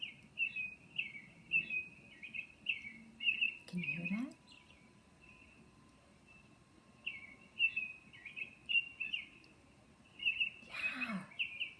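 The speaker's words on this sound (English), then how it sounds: "That's a robin's song." Bright, chirpy robin song in short repeated phrases, with a pause in the middle, while a voice speaks briefly over it.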